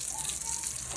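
Water sprayed onto sun-stressed garden plants, a steady hissing wash that runs unbroken and fairly soft through the whole moment, with no voices.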